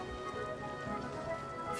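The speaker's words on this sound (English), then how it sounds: "It's raining." Steady rain falling in the video game Genshin Impact, a dense even patter with faint game tones layered over it, brief and moderately loud.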